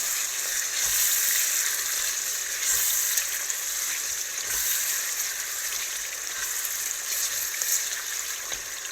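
Ragu with nutmeg being stirred in a pot, a continuous bright sizzle with soft scraping and bubbling, fairly close and steady for the whole stretch, with no talking.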